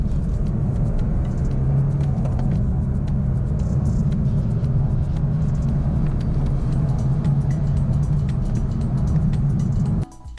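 A 2017 BMW 420d diesel with a manual gearbox accelerates hard from 30 to 70, giving a loud, steady, low engine rumble heard from inside the car that holds throughout and cuts off abruptly at the end, with no talking.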